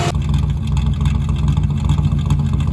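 A Holden Torana engine, its carburettor needing bigger jets and its exhaust due for replacement, rumbles deep and fat through the exhaust in a steady close drone with slight throbbing pulses.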